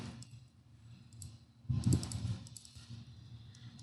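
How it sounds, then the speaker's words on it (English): Key presses on a computer keyboard while entering the TR trim command in AutoCAD 2020, a few soft clicks with a slightly louder cluster midway, close and quiet with no speech. "if we press on the keyboard TR, then enter and enter, we can directly delete like this"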